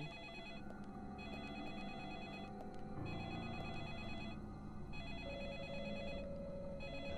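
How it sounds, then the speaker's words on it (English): A telephone rings in the Deadly Premonition video game, its bell repeating in regular bursts over a dense, steady game soundscape. "The phone's ringing again."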